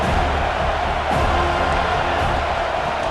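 A stadium crowd in EA Sports College Football 26 roars in a steady, dense wash of cheering and noise for a few seconds, with no voices talking over it.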